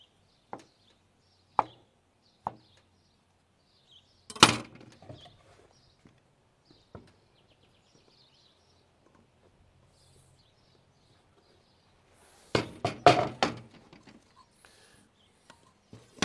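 Knife cutting vegetables for a Greek salad on a board, a few sparse sharp chops near the start, then a quick cluster of chopping knocks later, close and otherwise quiet.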